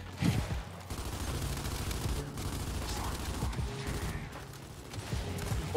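Rapid bursts of automatic gunfire from a Gears 5 ranked Control match, steady and dense across the stretch, with someone talking over the shooting.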